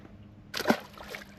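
A crappie is released from a small Mako Pro Skiff 15 boat on a lake, giving one brief, soft splash in the water, near and faint against quiet background.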